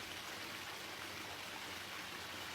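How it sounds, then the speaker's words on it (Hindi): Water is poured over plants in soil in an animated cartoon, a soft, steady splashing hiss that runs evenly throughout, faint and without any voices. "मिट्टी पर झुककर पौधों में पानी डाल रही होती है"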